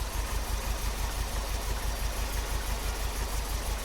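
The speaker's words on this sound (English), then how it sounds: "it's clearly revving too low now, so we're going to adjust the idle" MGB GT engine idling at about 700 rpm after timing and idle adjustment, a loud, steady low rumble with an even pulsing beat throughout.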